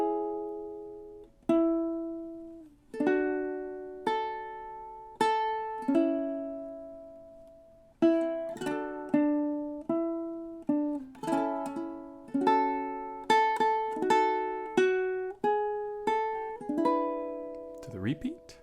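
Ukulele playing a song up to the second ending, a steady sequence of plucked chords and notes in time, clear and close.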